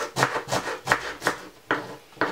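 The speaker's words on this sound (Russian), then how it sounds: "Мелко нарезаем лук." A knife chops an onion on a board in about seven crisp, evenly spaced strokes, close and clear with no talking.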